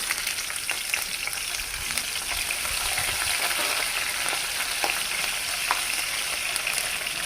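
Chopped green chillies fry with mustard seeds and cumin in hot oil in a pan, a steady, dense sizzle that runs unbroken throughout, with faint scraping of stirring and no talk.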